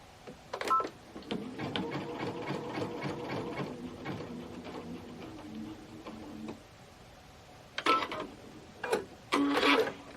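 A domestic sewing machine stitches a small buttonhole-style tack to tie a quilt, running in a rapid mechanical chatter for several seconds, pausing, then firing off short bursts near the end.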